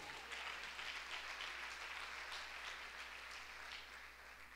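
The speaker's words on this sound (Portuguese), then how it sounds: "Uma salva de palmas para o Senhor." A church congregation applauds together during a sermon, a steady, dense wash of clapping held at an even level throughout, fairly quiet and distant, with no voices over it.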